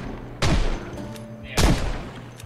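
Two heavy gunshot blasts about a second apart in the zombie survival video game Project Zomboid, loud and close with a short rumbling decay after each, over faint background noise.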